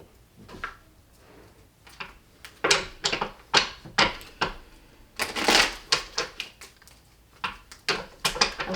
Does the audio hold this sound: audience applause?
no